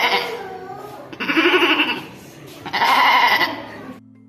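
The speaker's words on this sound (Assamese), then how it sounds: "ইয়াত দুটা ছাগলী আছে এয়া চাওক এই দুটা ছাগলী" Two goats at a textile park bleat loudly and close by, two long wavering calls one after the other with a short pause between them.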